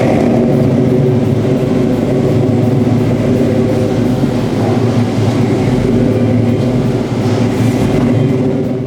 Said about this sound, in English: I'm gonna crank the truck up